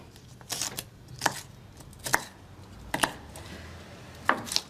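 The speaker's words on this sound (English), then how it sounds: "I've been chopping and dicing all afternoon." A knife chops and dices food for a Chinese meal on a board in a home kitchen, about six separate sharp taps, irregularly spaced, close and fairly quiet.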